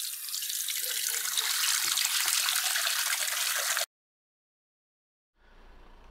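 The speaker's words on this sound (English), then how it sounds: "So I'm gonna plug the sink and fill it up a little bit" Tap water running steadily into a plugged bathroom sink, a loud continuous hiss and splash that cuts off abruptly, followed by silence and then a softer, fainter return of running water.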